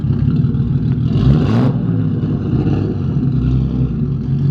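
A straight-piped turbo exhaust on a Skyline-engine-swapped Nissan S13 rumbles steadily nearby, with no catalytic converters, a deep, raw drone and a brief rise in revs partway through.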